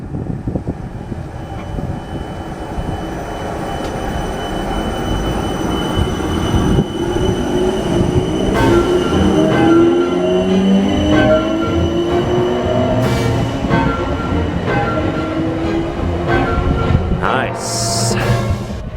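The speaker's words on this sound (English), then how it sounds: "Now departing the 455 for the service to Wimbledon. Let the motors commence." A Class 455 electric train pulls out of Barnes station on a service toward Wimbledon. A steady close rumble rises as the traction motors whine upward in pitch, with rail noise and a brief high squeal near the end.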